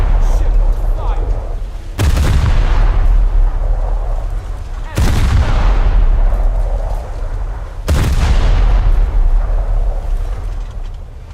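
Ship guns in a naval video game fire three heavy booming salvos about three seconds apart, each a sharp loud blast rolling into a long rumbling decay, over a constant low background roar.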